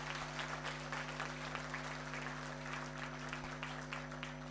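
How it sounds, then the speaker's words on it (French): A room full of people applauding for a guest at a public event in Cameroon, a dense, continuous clapping texture over a steady low electrical hum, heard alone without speech. "Applaudissez encore pour lui."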